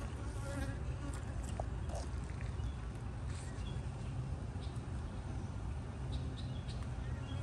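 A bee buzzes continuously during a hive inspection, with a steady droning hum that stays close and fairly loud throughout, with no breaks.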